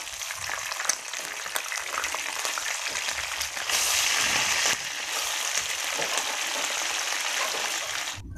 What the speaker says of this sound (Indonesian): di sini aku bakal goreng lelenya